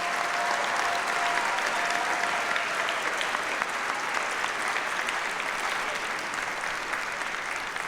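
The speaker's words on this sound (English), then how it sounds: "Can we give them a round of applause?" Broad, even applause from an inauguration ceremony audience for a choir, a steady wash of many hands clapping at moderate distance for the full length.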